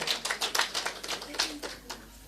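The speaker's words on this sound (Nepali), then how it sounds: "सबैले ताली बजाएर सम्मान व्यक्त गर्नु होला" An audience claps hands together to honour a birthday greeting at a spiritual gathering, a scattered, moderately faint patter of claps in an uneven rhythm with a soft room background.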